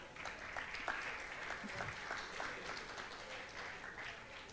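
Applause from a gathered audience at a religious lesson, a steady wash of many hands clapping at moderate distance, fairly quiet and continuous throughout, with faint voices mixed in underneath.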